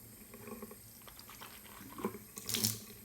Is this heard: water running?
yes